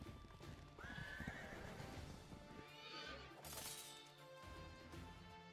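A horse neighs with a rising whinny over a clip-clop of hooves in the Wargroove strategy video game, mixed with game music and a brief crash of combat near the middle.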